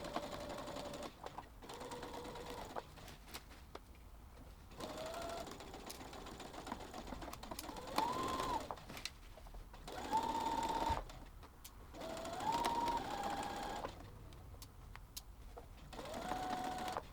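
A sewing machine stitches around the top of a fabric tote bag in several steady bursts separated by short pauses, each run a close, even mechanical whir.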